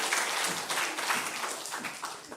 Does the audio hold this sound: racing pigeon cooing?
no